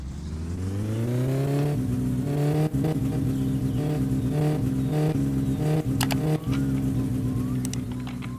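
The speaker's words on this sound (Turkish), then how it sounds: "Aracımızı çalıştırmayı başardık." The Satsuma car in My Summer Car cranks over and catches, then its engine revs loudly and steadily up close, the pitch climbing before holding a sustained throaty drone with brief dips.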